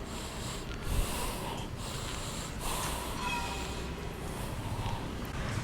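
Deep, audible breaths in and out through the nose and mouth during a yoga joint warm-up, several long hissing inhales and exhales in slow rhythm, close and steady.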